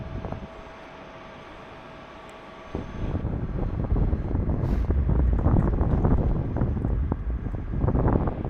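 Jet aircraft roar from a departing passenger jet and a cargo plane at Sydney Airport, a broad loud rumble rising about three seconds in and sustained, with wind buffeting the microphone outdoors.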